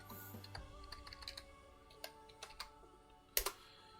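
Someone types a password on a computer keyboard in a quiet room, with scattered soft clicks in an uneven rhythm and a sharper double tap near the end, faint and close.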